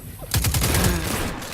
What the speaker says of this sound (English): my team actually guns that guy down